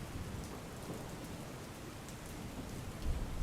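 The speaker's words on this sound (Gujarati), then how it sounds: "પાટણ શહેર સહિત અન્ય તાલુકામાં પણ વરસાદ નોંધાયો છે" Heavy monsoon rain falls steadily in Patan, Gujarat, as a dense, even hiss with no voices, and a deeper rumble of thunder swells briefly near the end.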